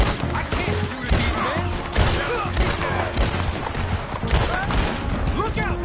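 Dense gunfire in Red Dead Redemption 2 crackles continuously in rapid, overlapping shots near and far, mixed with shouting voices and loud bursts throughout.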